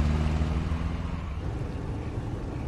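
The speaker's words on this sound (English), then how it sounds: "You have a loud-ass car." Loud, rumbling car engine idling close by in The Walking Dead 400 Days, a low, rough drone that holds steady throughout, with no talking.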